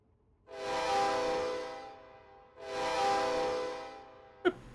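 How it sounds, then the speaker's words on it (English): Two long, loud blasts of a locomotive horn on a fairly heavy freight train in the Loco Shortline railroad game, each a sustained chord lasting about two seconds, followed by a short sharp clank. "A pretty decent horn on it."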